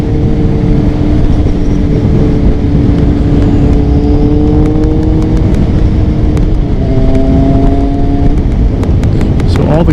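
A 2000 Kawasaki ZX6 600 motorcycle drones on the road with a loud, steady engine note that rises and falls slightly through the gears, accompanied by constant wind rush close to the rider.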